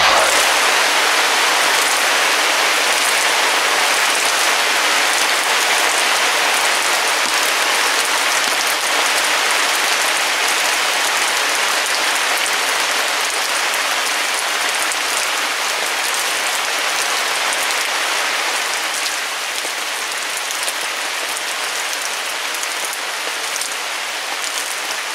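Rain falling steadily in the Oregon Coast Range, a loud, continuous broadband hiss of drops on surfaces that holds even for the whole stretch, with no voices.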